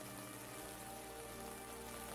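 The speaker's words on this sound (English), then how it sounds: "The rain has started again outside" Gentle, steady rain hisses evenly outside, a soft continuous wash with a faint tonal hum underneath and no voices.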